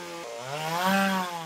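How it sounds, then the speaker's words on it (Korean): A chainsaw carves a wooden jangseung, a Korean totem pole, in winter in Yecheon. The engine whines steadily and rises in pitch as the blade bites into the wood, loud and close, with no speech. "거친 전기톱으로 때로는 음각을, 때로는 양각을 자유자재로 구사하는"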